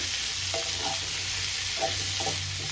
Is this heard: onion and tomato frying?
yes